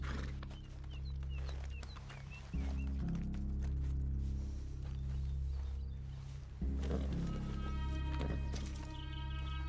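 Horse hooves in the video game Red Dead Redemption 2, steady clip-clop footfalls over a droning low background, moderately faint and continuous.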